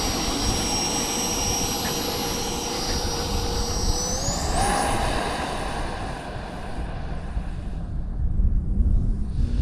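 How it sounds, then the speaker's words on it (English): A 3D printed RC F-20 Tigershark with a 50mm electric ducted fan roars loudly and steadily as it takes off down a runway, its high-pitched whine rising in pitch midway through the run. "So I took up the whole runway to get enough speed because I do not want to fly this thing slow."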